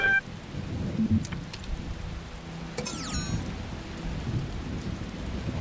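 Rain and thunder in The Talos Principle VR video game: steady rainfall with a low rumbling thunder roll, a brief loud start, and a few bright chirping tones drifting over the storm.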